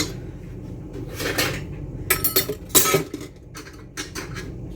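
Dishes, pots and cutlery being handled in a home kitchen, with clinks and clatters in short irregular bursts, several sharp metallic knocks in the middle and quieter rattling between them.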